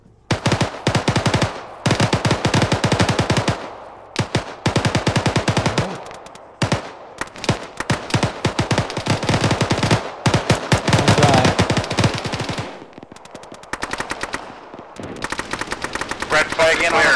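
Sustained automatic gunfire from an Arma 3 infantry battle, loud bursts and rapid volleys crackling almost without pause, broken by brief gaps before firing resumes, with voices faintly under the shooting.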